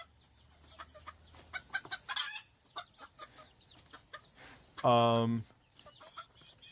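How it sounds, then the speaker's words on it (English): Chickens cluck in a run of short outdoor calls, with a louder, drawn-out crow or squawk near the end, while a person talks briefly over them. "you just hear birds"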